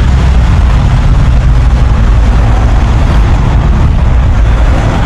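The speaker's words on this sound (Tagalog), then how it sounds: "Medyo maingay lang dahil nasa highway tayo, yung tunog ng mga sasakyan" Steady, loud roar of highway traffic in Baguio with a low rumbling engine drone and broadband hiss, continuous throughout with no voices.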